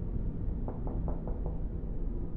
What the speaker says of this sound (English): Who's knocking?